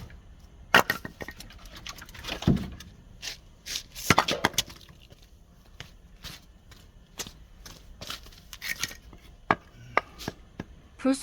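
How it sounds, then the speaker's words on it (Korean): Firewood is split into kindling in a workshop, with sharp, irregular wooden cracks and knocks, some loud and close, others lighter, over quiet background. "불쏘시개 사용하기 위해서 장작 쪼개기."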